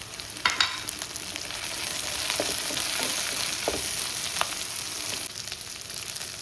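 Garlic, onion and dried chilies sautéing in a pan give a steady, close hiss of frying with occasional light scrapes and taps from stirring, alone without voices.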